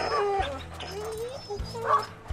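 A sled dog, the team's new lead dog, lets out a few short whimpering barks and yips close by, in quick bursts with brief pauses between them.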